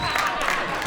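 Stand-up comedy audience applause, a brief, steady wash of clapping from a crowd, fairly loud and continuous.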